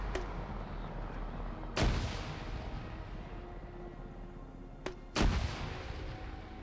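Grenadier rounds and gunfire in a Finnish campaign war video game, with a continuous rumble of distant fire broken by two sharp, loud blasts, one early and one late.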